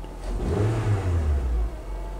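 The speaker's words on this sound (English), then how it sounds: "I'm going to tip in the throttle and see the reaction." Car engine revved briefly as the throttle is tipped in during a diagnostic test of engine mechanical condition, a single short rising surge that falls back to idle, close and alone.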